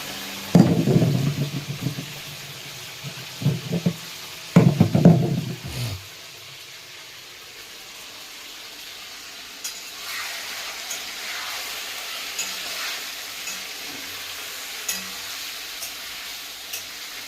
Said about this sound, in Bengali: ভালো করে ড্রাই ফ্রাই করতে হবে, কাঁচা কাঁচা ভাব যেমন না থাকে।